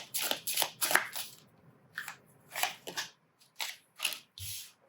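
Lenormand cards are shuffled close up in quick repeated riffles, crisp papery bursts separated by short pauses, quiet and alone.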